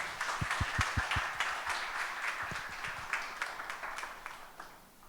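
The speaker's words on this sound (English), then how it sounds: "Could we have a big round of applause for him?" An audience at an International Women's Day session applauds with scattered, moderately distant claps that start crisp and thin out toward the end, with no voices over them.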